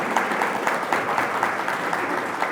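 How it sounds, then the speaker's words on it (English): An audience at a technology talk gives a brief, steady round of applause to welcome a speaker, dense clapping throughout. "A big round of applause, please."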